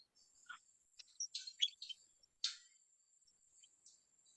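A pet bird named Sparky lets out short high chirps and tweets in scattered bursts against a quiet background, fairly faint with brief gaps between calls.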